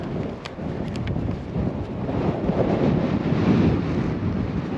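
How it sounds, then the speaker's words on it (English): Strong, steady wind roars into the microphone at a wild motorcycle campsite near a hermitage, a continuous low buffeting rumble that builds slightly with a few faint higher tones near the start, with no talk over it. "The real problem is the wind. It's a strong wind."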